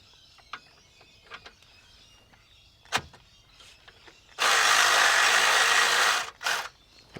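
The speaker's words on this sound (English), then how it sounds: "I'll just swap to the 10mm socket. So sit that aside, and then we just want to loosen that bottom one." A 10mm socket loosens the lower bolt during a dual battery install on a 300 Series Toyota LandCruiser: a few faint clicks, then a loud, steady mechanical whir of about two seconds, followed by one shorter burst.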